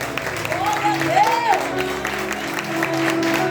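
A church congregation applauds, with a broad wash of clapping and crowd noise while voices and a rising tone or whistle carry over it.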